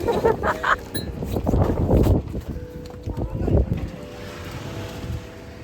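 Strong wind gusting outdoors at a countryside car-camping spot, rushing and buffeting the microphone in uneven surges while people talk nearby.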